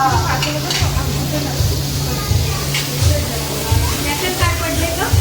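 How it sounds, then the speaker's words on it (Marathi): Paneer frying in a pan, a steady sizzle with rhythmic stirring scrapes repeating about every half second, while people talk nearby. "शेफ सुप्रिया त्यांच्या स्टाईलचे पनीर फ्राय करत होत्या"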